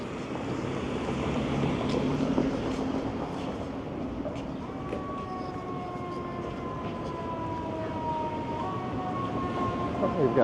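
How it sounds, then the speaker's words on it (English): On a sunny afternoon city street in Toronto's West End, an emergency siren sounds in the distance as steady and sliding tones over busy traffic noise and street bustle. "We've got sirens."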